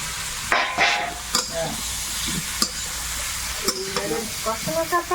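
Fish frying in a pan with loud, crackling sizzle, broken by scraping stir strokes and sharp clatters of a utensil against the pan, with voices talking briefly in the background.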